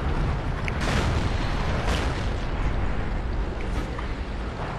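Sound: tank cannon shot in video game World of Tanks

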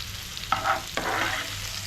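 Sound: papadam being sautéed in a pan until golden brown

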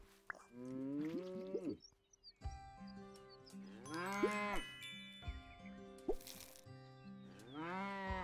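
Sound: cows mooing in the video game Big Farm Story

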